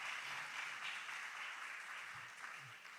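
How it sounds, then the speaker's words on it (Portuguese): Church congregation applauding during an Assemblies of God service, a soft, fairly distant patter of many hands clapping steadily for about three seconds. "Vamos dar uma salva de palmas para Maria, irmãos?"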